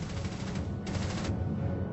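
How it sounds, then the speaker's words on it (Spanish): Sustained WWII German MG-42 machine gun fire at roughly 1200 rounds per minute, a dense continuous rattle of rapid shots at steady loudness with no pauses, in a documentary battle scene. "La MG-42 es probablemente la mejor ametralladora de la Segunda Guerra Mundial"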